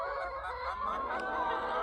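A brief chorus of clucking and squawking chickens in a pomegranate orchard, several birds calling at once, moderately close with no talking.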